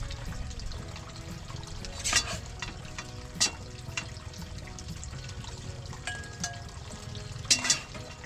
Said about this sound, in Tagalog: Ang kangkong naman po yung mabilis lang din maluto.